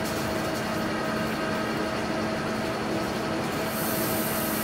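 Steady, loud rumble of an Indian Railways superfast express hauled by a WAP7 electric locomotive, heard continuously from on board with constant rolling noise and a brief hiss near the end.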